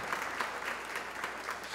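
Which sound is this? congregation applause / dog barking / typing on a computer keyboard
congregation applause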